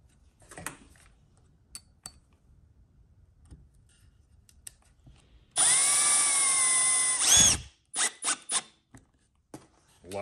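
A power drill driving screws into wood whirs in one sustained burst of under two seconds, followed by a few short trigger pulses, with quiet handling noises before it.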